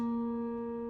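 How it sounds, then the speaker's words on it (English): A grand piano's hammers strike its metal strings, producing one clear, steady held tone with bright overtones that rings alone for about a second. "these hammers hit these metal strings"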